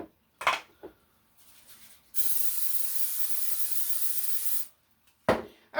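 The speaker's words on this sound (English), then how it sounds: "Let me spray first." Cooking spray hisses into a casserole dish for chicken tinga taco casserole, one steady close burst of about two and a half seconds, framed by light clinks and handling noises.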